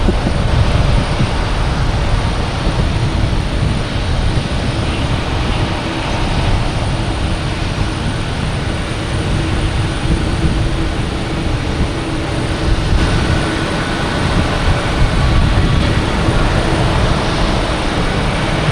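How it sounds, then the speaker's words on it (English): Jet airliners taxi and take off at Boston Logan Airport, a steady loud broadband engine roar that holds without a break and swells slightly in places, with no voices. "Iceland Air and Japan Airlines racing with United here as well."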